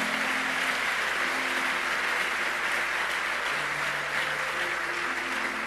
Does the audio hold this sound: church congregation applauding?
yes